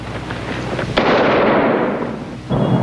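A gunshot: a single sharp, loud blast that cuts into a steady rushing background, with a long noisy decay and a second burst near the end.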